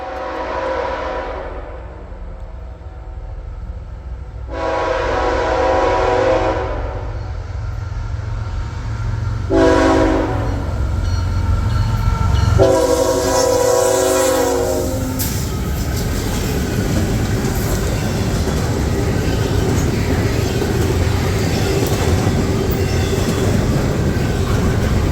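Norfolk Southern freight train led by a GE ET44AC locomotive, with several loud horn blasts over a low diesel rumble, then a continuous roar and rattle of railcars passing close by.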